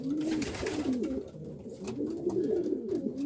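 Racing pigeons shut inside a loft coo steadily, with overlapping low, rolling calls from several birds running continuously at close range and no voices.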